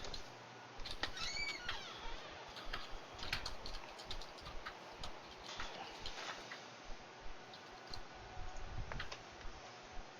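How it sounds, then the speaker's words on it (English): Keyboard typing during an online tabletop role-playing session, a run of irregular clicky keystrokes in short flurries with gaps between them, fairly close and moderately quiet. "James, I can hear you typing."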